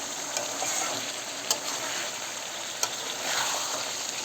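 Meat sautéed (kosha) in a pan gives a steady close sizzle and frying hiss throughout, with a couple of sharp metallic clinks from stirring.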